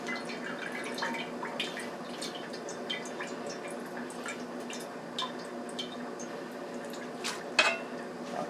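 Beef broth poured through a strainer into a frying pan in a kitchen, a soft steady trickle with scattered drips, light clinks of metal and cookware, and one sharper clank near the end.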